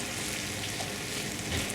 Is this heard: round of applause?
no